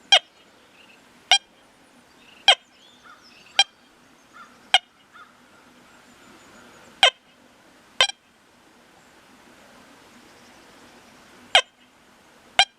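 Short sharp electronic target tones from an XP Deus metal detector at 17.6 kHz ring out one at a time at irregular intervals, each brief and clipped, over a quiet background, while testing over elevated iron pieces.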